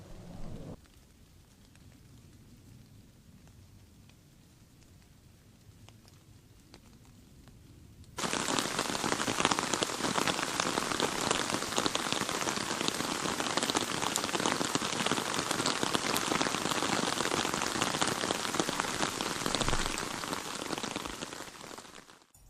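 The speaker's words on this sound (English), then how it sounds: "The rain carried on late into the evening" Rain pattering on a tarp over a solo wild camp, quiet and faint at first, then suddenly swelling into a loud, steady, dense downpour that drums on continuously until the end.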